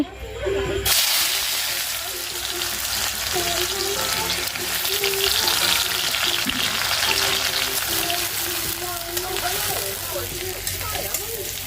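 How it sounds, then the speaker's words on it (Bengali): Fish frying in hot oil in a small home kitchen gives a loud, continuous sizzle and spatter close by, with a voice talking over it. "আগে মাছটায় ভাজা বসিয়ে দিচ্ছি"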